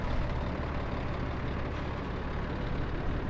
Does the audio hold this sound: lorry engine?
yes